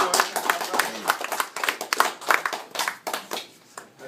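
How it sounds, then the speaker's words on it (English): Audience clapping at a business presentation, a dense patter of many hands close by with bursts of cheering and voices mixed in, steady throughout. "Another round of applause for Sam."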